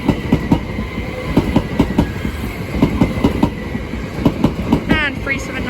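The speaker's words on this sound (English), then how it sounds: "The next train to pass by is going to be a Great Anglia, a lot of class 379s, from Cambridge North to London Liverpool Street" A Greater Anglia Class 379 electric multiple unit passes close by at speed, wheels beating a steady clickety-clack over rail joints with a brief squeal near the end.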